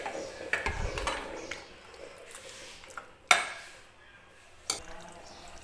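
Cooked mutton curry scraped and stirred in a metal pot, with clattering and scraping of a spoon on the metal and two sharp clanks, under faint background talk.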